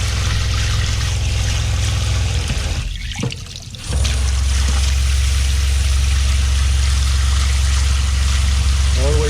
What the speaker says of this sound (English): We'll let it run a while. Make sure we're flushing the antifreeze out.